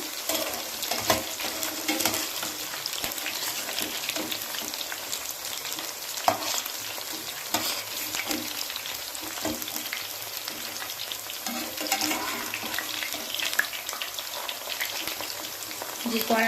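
Mushroom pakoras fry in a pan of hot oil, deep-fried until well browned, with a loud, continuous crackling sizzle and occasional sharp clicks and scrapes from stirring and turning.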